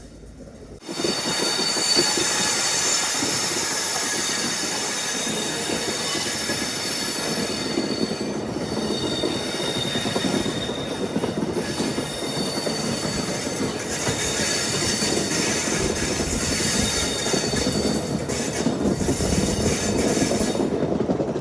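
A passenger train from Guntakal to Markapur runs steadily, its loud rumble and clatter rolling on for the whole stretch with high wheel squeal rising above as it takes a long curve.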